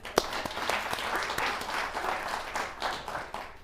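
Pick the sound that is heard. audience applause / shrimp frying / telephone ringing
audience applause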